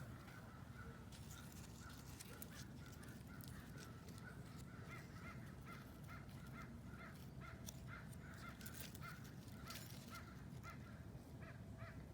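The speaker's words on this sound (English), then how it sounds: "Crows are going crazy. Sounds like they're arguing." Crows caw repeatedly in the distance, overlapping calls in an irregular burst over a steady low outdoor rumble.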